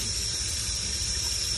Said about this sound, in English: I'm pretty much just rinsing her down with some fresh water